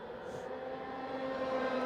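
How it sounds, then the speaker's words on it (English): A racing kart engine at a karting championship, running poorly with a mechanical issue, gives a steady droning hum with a fluctuating tone that grows slightly louder, with no talk over it. "This car doesn't even sound too correct."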